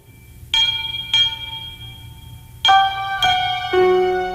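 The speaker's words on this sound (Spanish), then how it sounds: "un autómata que daba las martilladas en la campana del reloj antiguo" Old clock bell in a monastery tower, struck by a hammer-wielding automaton: four separate bright metallic strikes with long ringing tones, a pair near the start and another pair later, over a low hum.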